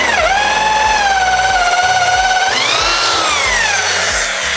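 A cordless drill bores into wood with a long auger bit, its motor whine loud and steady throughout, pitch dipping under load and rising near the end as the bit works through.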